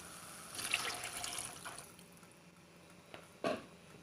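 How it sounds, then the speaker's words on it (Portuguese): Water with a dissolved vegetable stock cube poured into a pan for an empada filling, a soft trickling splash at first, then a quieter stretch and a short splash near the end. "vou acrescentar 500 ml de água com 1 tablete de caldo de legume"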